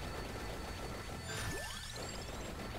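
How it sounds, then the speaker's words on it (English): Explosion effects from the video game Vampire Survivors burst over busy, continuous game audio, with a sharp crash and a descending whooshing sweep midway through. "You can see the explosion effect going off all the time."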